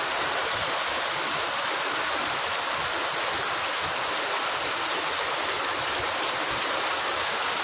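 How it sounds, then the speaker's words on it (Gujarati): Rain pours steadily over a village while rainwater runs through the street, a loud, dense and unbroken rushing wash with no voices. "તો દોસ્તો અમારા ગામમાં જો વરસાદ થઈ ગયો છે ચાલુ।"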